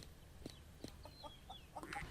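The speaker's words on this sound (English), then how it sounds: "Go Shaky chicken" Chicken clucks from a farm animal in the Farming Supermarket Sim video game, several short separate calls spread across a couple of seconds, fairly faint over a steady low background hum.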